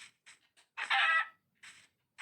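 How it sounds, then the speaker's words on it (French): Chickens in the Minecraft video game cluck in short, clean, close bursts, a handful of brief clucks around one longer, louder call, with silence between them. "Deuxième poule."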